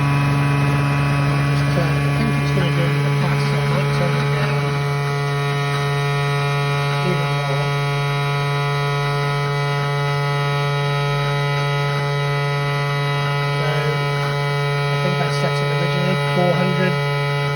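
A CNC machine mills a pass on a box mod at a slowed feed rate, giving a steady droning hum with tonal whine that runs continuously throughout, with faint intermittent cutting texture.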